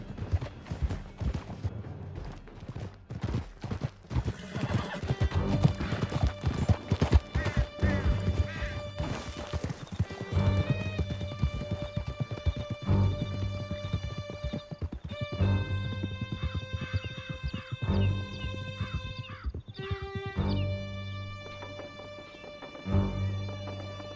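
Horses gallop in Red Dead Redemption 2, a fast, continuous hoof clatter with an occasional whinny, running under a swelling musical score for the full length.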